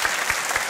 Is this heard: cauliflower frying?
no